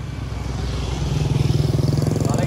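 A motorcycle engine passes along a road, growing louder with a throbbing, rhythmic exhaust pulse that peaks near the end.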